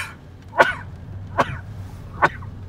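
Three short, sharp sneeze-like bursts, evenly spaced about a second apart, close and fairly loud over a quiet background.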